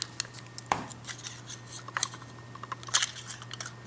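Scissors snip through aluminum foil near a wire while making galvanic skin response electrodes, a series of faint, sharp, close crinkly cuts and rustles at irregular intervals over a low steady hum, with no talk.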